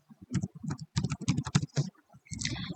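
Rapid, close keystrokes on a computer keyboard as a student ID number is typed into a web app login form, in uneven bursts with short gaps and no voices.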